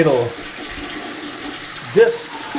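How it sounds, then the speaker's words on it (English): Fresh water runs through the plumbing of a toilet under repair, a steady low rushing flow close by, with a person speaking over it and a brief splash of noise near the end. "This is the water that goes down on the inside through the plumbing and comes out your bowl and then flushes the toilet."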